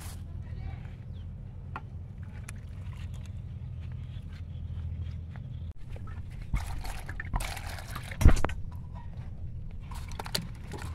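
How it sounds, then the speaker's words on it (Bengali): Rice rinsed in water while cooking egg pulao, with soft sloshing and trickling throughout, a louder splash near the end, and people talking over it. "চালটা ধুয়ে নাও।"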